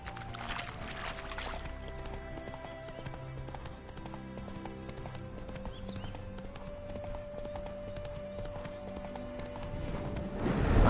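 Steady rhythmic clip-clop of horse hooves at a gallop in the video game The Witcher 3: Hearts of Stone, close and continuous, with a sustained tone and light splashing texture behind it.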